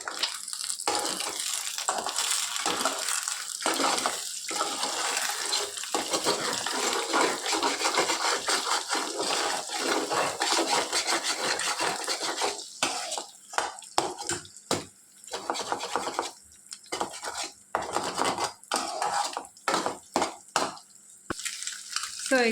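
Eggs and leftover cooked rice stirred together in a hot pan, giving a steady scraping, sizzling clatter that runs continuously near the microphone, thinning into short separate strokes toward the end.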